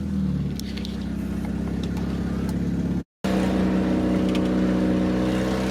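A loud 1994 car engine drones steadily while driving, with a fitted aftermarket exhaust giving a deep, continuous rumble close by; a brief cut to silence splits the run before the engine returns just as loud.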